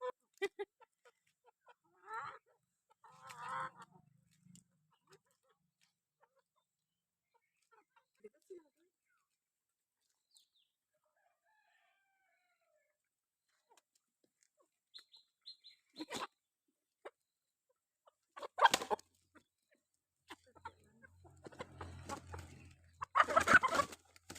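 Scattered bursts of hen clucking and short calls, fairly faint, with quiet gaps between and a louder cluster of activity near the end.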